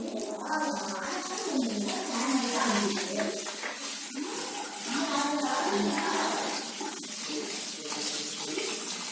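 Beaten rice flakes (poha) being washed in water, with a steady close splashing and running-water wash that continues without pause throughout.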